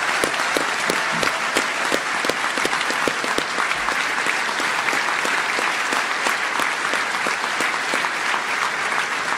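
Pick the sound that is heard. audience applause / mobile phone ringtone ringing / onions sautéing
audience applause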